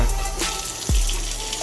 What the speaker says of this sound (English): I just pour a few cups of water